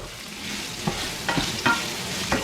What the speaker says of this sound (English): Now I will add the finely chopped onions and fry the onions till they become light brown